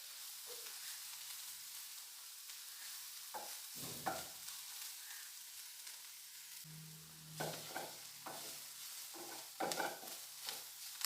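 Masala and cumin powder sauté in a pan, making a soft, continuous sizzle. A few quiet stirring scrapes and clinks of a utensil come at irregular intervals.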